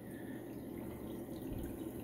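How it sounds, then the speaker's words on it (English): Water flows steadily through the filters of a home-built coral farm aquarium system, making a continuous, even rushing and trickling wash at close range with no talk. "all the water's escaping there before it goes down line to this spot here"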